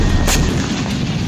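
Airstrike explosions in Damascus, Syria, near the Iranian embassy: a sustained loud roar of blasts with a sharp crack standing out, dense and heavy throughout with no voices.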